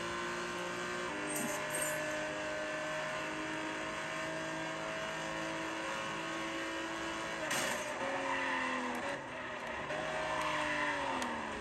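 A car racing video game plays on an iPad Air, with steady engine drone and shifting revs, tire noise and occasional passing cars, continuous and moderately loud throughout.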